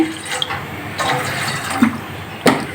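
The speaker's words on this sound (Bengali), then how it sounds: "এই যে জল দিয়ে দিচ্ছি" Water is poured into a pan to make sugar syrup for kalo jam sweets: a brief, close wash of splashing and trickling liquid with a few louder gulps and spills, with no talking.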